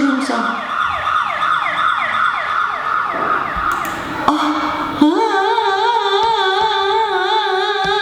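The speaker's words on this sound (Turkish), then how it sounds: "Bu bir ambulans." A loud ambulance siren wails in rapid rising-and-falling sweeps, then shifts to a steadier, slower two-tone pattern, close and continuous.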